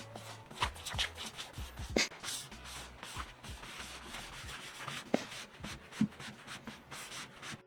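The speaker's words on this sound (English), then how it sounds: "Next, I wiped it off using toilet paper" Toilet paper wipes a watery paint wash off the wood of a vintage Swedish buffet, making repeated soft rubbing and scraping strokes with small taps, close and fairly quiet.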